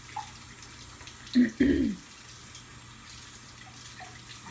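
Hot water from a kitchen tap gushes in two short bursts, loud and close, between about 1.3 and 2 seconds, with low household hum around it and a brief spoken word just before.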